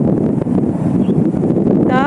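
Strong wind gusts roar across an open rice field, buffeting the microphone with a loud, continuous rushing noise throughout.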